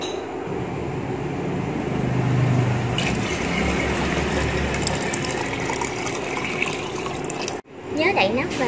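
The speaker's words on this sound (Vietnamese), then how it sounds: "Mình sẽ bắt đầu cho nước vào nha." Water pours steadily into a cooking pot on an electric stove while clam porridge is being made, a continuous splashing rush that stops abruptly near the end before a voice speaks.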